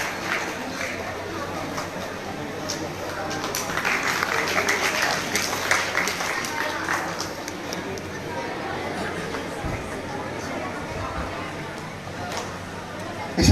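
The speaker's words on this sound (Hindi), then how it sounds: "और तालियां बजाइए।" Sustained audience applause at a cultural and literary program in Islampur, steady dense clapping from a crowd with murmured chatter underneath, moderately distant and even throughout.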